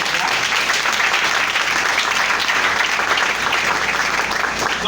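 A church congregation applauds in praise, dense sustained clapping from many hands filling the room evenly for several seconds, loud and unbroken, with no talk over it.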